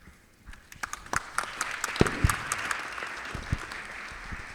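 An audience at a European transport policy panel breaks into applause that builds quickly into steady, moderately loud clapping from many hands and carries on without any voices.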